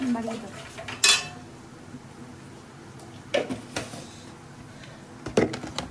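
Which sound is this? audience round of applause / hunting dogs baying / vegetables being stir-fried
vegetables being stir-fried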